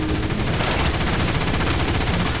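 Loud, sustained automatic gunfire during a boss fight in Transformers: War for Cybertron, a dense, unbroken rattling barrage filling the whole moment with no pause.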